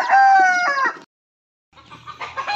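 Near a flock of chickens, a rooster crows loudly for about a second, then after a short silence hens cluck in a low, scattered murmur.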